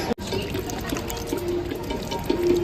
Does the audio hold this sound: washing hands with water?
yes